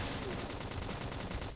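Sustained gunfire in Xenoblade Chronicles X, loud and continuous with a rapid pulsing pattern of shots mixed into a crowded combat soundscape.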